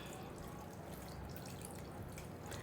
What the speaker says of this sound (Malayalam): കുറച്ച് തണുത്ത വെള്ളം ഒഴിച്ചു കൊടുക്കാം,